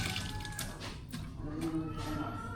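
Ginger rinsed under a running kitchen tap, a close continuous gush of water splashing over the root with small shifting splatters, faint voices in the background.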